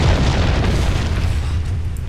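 El Gigante hurls a rock in the video game Resident Evil 4: a heavy, close, booming impact with a deep rumbling crash that stays loud and slowly fades over two seconds.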